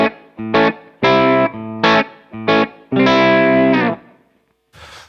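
Distorted electric guitar through a Line 6 Pod Go plays a series of sustained chords in short bursts, each ringing into a wash of reverb, with a brief noisy tail at the end.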